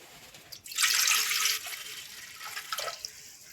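Water splashes and gushes steadily into a metal pot for about a second, then trails off into light drips and quiet clinking.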